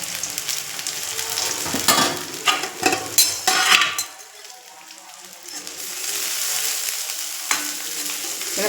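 Curry leaves hit hot oil with onion and dried chillies for a bitter gourd dish, crackling and sizzling loudly in bursts with stirring scrapes, then settling to a softer steady fry.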